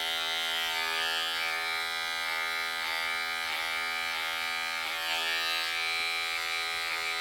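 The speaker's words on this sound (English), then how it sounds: "when I come back with my trimmer, I can create a nice line" An electric hair trimmer buzzes continuously at close range while cutting and fading straight hair, a steady whine with small dips in pitch as it moves through the hair.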